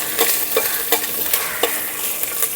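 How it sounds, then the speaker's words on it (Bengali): Asafoetida frying in hot oil in a pan, a continuous loud sizzle punctuated by regular stirring scrapes at a steady rhythm, with no voices. "একটু ভাজা ভাজা করে দিয়ে দিচ্ছি হিং।"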